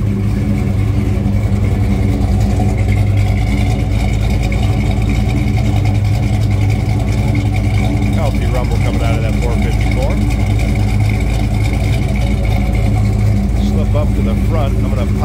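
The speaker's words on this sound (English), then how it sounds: "Slip around to the back seat, hear this run." A 1970 Chevrolet Chevelle SS 454's V8 engine idles steadily up close, a deep continuous rumble with a slight uneven lope throughout.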